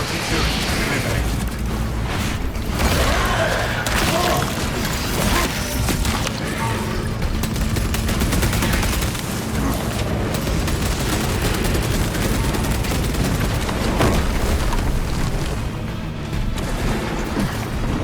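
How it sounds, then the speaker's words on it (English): Dense, continuous combat noise from Warhammer 40,000: Space Marine 2, with rapid gunfire, crashes and a grenade blast layered under game voices and effects, loud and unbroken throughout. "Front grenade deployed."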